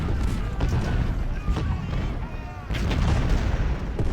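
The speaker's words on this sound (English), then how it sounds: "let's get some 20 pounders targeting his artillery" 20-pounder cannons firing in the Civil War strategy game Ultimate General: Civil War at Gettysburg, a dense rumbling barrage of booms with sharp reports, loud and continuous, with a voice talking over it.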